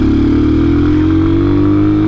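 An Amazon motorcycle at full throttle in fourth gear climbing a steep hill, a loud, close, steady engine drone whose pitch creeps upward as it pulls.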